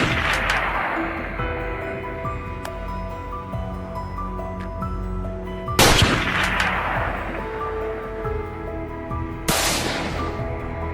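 Gunshots fired at wild boars during an outdoor hunt in hilly terrain: a few loud, sharp reports spaced several seconds apart, ringing out over steady background noise with no talk.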